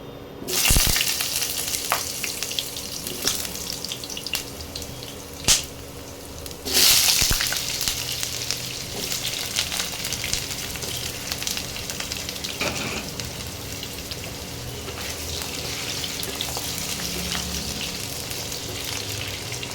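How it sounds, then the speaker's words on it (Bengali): Diced potatoes fry in hot oil, a continuous close sizzle and crackle with a few sharp spatula knocks and stirring clatters spread through the frying. "এটা একটু গরম ভাজা ভাজা হোক আলুগুলো"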